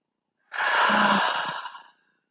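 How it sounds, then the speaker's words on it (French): A single slow, deep breath drawn in through the nose during a calm heart-opening yoga session, a steady airy rush lasting over a second, close and alone with no talk. "j'inspire par le nez"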